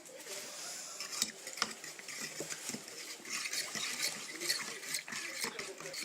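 Homemade ivy laundry detergent being stirred in a container, with soft liquid swishes and light clinks of a utensil against the sides under quiet talk.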